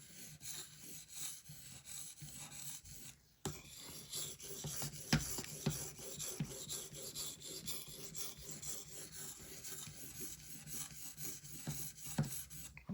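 A Cold Steel 4-Max Scout knife blade is drawn over an Edge Pro Apex sharpening stone in steady, repeated rasping strokes. The scraping is close and continuous, with a brief pause early on. No one speaks.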